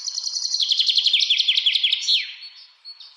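Songbird chirps in a bright rapid trill of repeated high notes lasting about two seconds, then a few softer trailing calls, close and clear with no talking.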